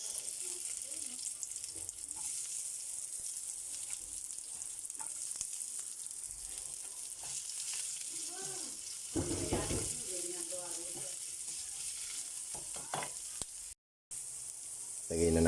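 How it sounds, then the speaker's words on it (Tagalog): Garlic and onion sauté in a hot pan, a continuous bright sizzle with occasional stirring and scraping, plus brief bursts of talk and a short break near the end. "Magigisa na po tayo. Lagyan na natin yung bawang. Lagay na natin yung sibuyas."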